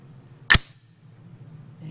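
A single sharp, loud report from an HK MR556A4 piston AR-15 rifle fired slowly at an outdoor range rings out briefly, then the background goes quiet.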